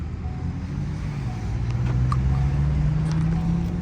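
Twin-turbo V6 pickup truck driving on the road in haul mode, its engine humming steadily with a slowly rising tone as it pulls, with road noise underneath and no talking.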